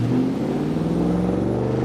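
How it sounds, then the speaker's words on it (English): A twin-turbo 1987 Ford Mustang Foxbody engine holds a loud, steady two-step rev limiter, droning and buzzing continuously throughout at close range with no talking. "Ready for a little 2-step?"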